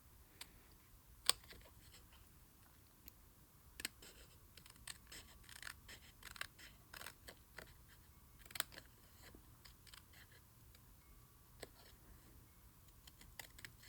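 Intermittent crisp snips and small clicks of scissors cutting paper, close and fairly quiet, spaced irregularly over a hushed background.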